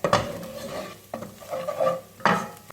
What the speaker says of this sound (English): I'm going to add the cloves of garlic and give that a couple of minutes just to fry into the onions